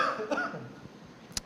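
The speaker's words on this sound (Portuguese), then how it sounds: "essa tosse provavelmente acompanhará a aula" A person coughs a few times with a hoarse, slightly rough quality, close to the mic against a quiet indoor background, then gives one sharp cough near the end.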